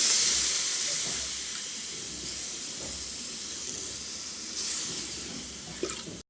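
Water hits a hot pan of potatoes and pointed gourd with a loud steamy hiss that slowly fades to a softer bubbling sizzle.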